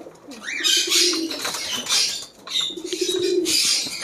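Pigeons at a bird farm in Madurai coo in low, rolling phrases while wings clatter and flap in close, loud bursts, with two distinct cooing bouts and no talking.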